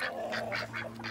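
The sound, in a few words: ducks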